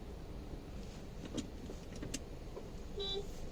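Car creeping slowly through heavy evening traffic, a steady low road rumble with faint scattered clicks and a brief tonal whine near the end, no talk.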